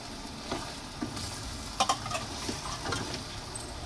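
Hotdogs stirred into chicken afritada in a pan, a faint low sizzle with soft scrapes and a couple of light clinks of a utensil, quiet and close.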